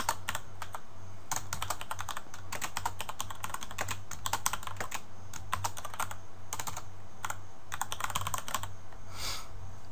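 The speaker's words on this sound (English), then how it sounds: "Now we can type stuff in." Fast typing on a computer keyboard, dense clusters of close, crisp key clicks with short pauses between bursts, steady and alone over a faint background hum.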